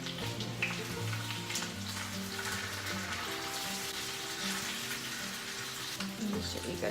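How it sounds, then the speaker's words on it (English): Spicy chicken fries in hot oil with a dense, continuous sizzle and crackle, close and fairly loud, with faint background hum and occasional movement as the pieces are tossed. "It can actually sit there for a minute or two and just kind of fry."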